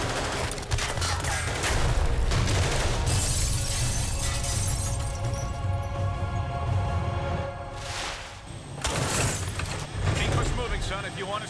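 Rapid gunfire and shattering impacts from Marvel Ultimate Alliance 2, a near-continuous loud barrage with sharp cracks, a brief lull, then a fresh burst, mixed under game music and dialogue.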